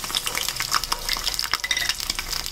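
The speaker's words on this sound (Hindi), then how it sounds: "अब इनको फ्राई करें।" Chicken gizzards fry in a small pan in a mini kitchen, giving a close, crackling sizzle with irregular popping bursts and a few faint scrapes throughout.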